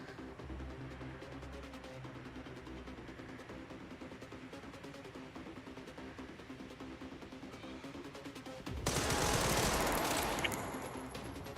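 Rapid machine-gun fire in Resident Evil 9 Requiem, a steady stream of quiet, distant-sounding shots over a droning background, followed near the end by a sudden loud hissing burst.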